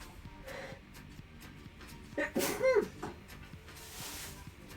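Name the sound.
sneeze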